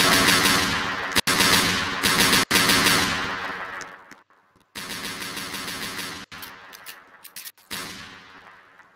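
Rapid automatic gunfire in the Roblox game Brookhaven rattles out loud and close in long bursts, broken by a few brief gaps of near silence.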